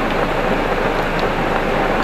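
Heavy rain pours down on a car and is heard from inside it, a dense, steady drumming hiss that continues without pause and with no talking.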